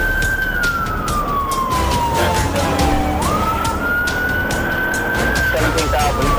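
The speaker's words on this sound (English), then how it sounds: "vehicle sped off as soon as Deputy McGuigan activated his sirens and lights, prompting an immediate pursuit." A police car siren wails during a high-speed pursuit, its pitch sliding down slowly and then sweeping back up, steady and prominent over road noise and a radio-like background.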